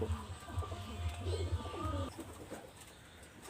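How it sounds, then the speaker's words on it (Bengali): A pair of Nepali yellow-eyed pigeons coos in low, repeated throaty phrases, fairly close but soft, with some faint background noise and no talk. "এখানে দেখেন এক জোড়া আমি কবুতর দেখাচ্ছি, টপ কোয়ালিটির এক জোড়া নেপালি চোখ হলুদ কবুতর"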